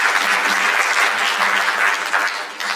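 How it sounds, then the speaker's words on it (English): A conference audience at a mental wellness and counselling breakfast gives a loud, sustained round of clapping that fills the room throughout. "another round of applause for you"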